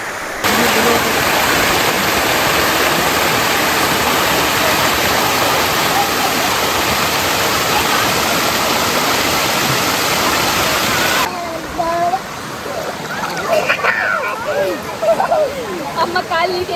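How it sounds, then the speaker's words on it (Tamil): A waterfall near a small Shiva temple in forest on the Aare Falls trek roars loud and steady close by. Toward the end the rush drops away and a few faint voices and other sounds come through. "இந்த சிவன் கோயில் பக்கத்தில் இந்த ஃபால்ஸ் இருக்குது"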